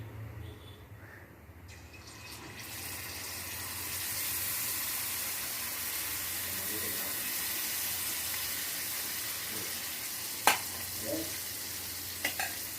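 Unniyappam batter frying in hot oil in an appam pan, a steady close sizzle that builds after a quieter start and holds throughout, with a few sharp pops or clinks near the end and no talk.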